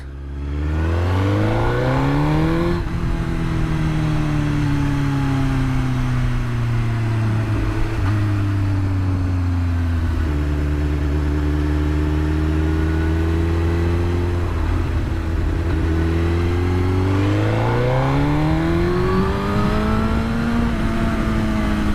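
A super sport motorcycle engine revs hard up to 7,000 rpm, a loud, close, sustained engine note that rises, dips and climbs again in several sweeps over about twenty seconds, with no talking.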